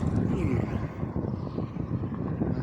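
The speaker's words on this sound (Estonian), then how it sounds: "Üks safari masin tuleb siin." Safari vehicle driving past near a bog observation mast, a loud, continuous low engine drone like an old propeller plane, steady throughout with some wind buffeting on the microphone.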